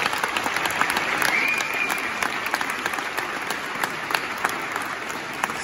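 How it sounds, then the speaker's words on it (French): A crowd at a local gathering applauds. The clapping is sustained and fairly close, with a few louder claps standing out. "j'aimerais qu'on s'applaudisse tout le monde"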